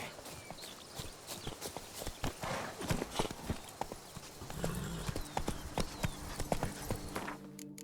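Hooves clip-clop in rapid, steady rhythm as a horse gallops in The Witcher 3 video game, a continuous close pattern of sharp hoofbeats with occasional gear and ambient sounds.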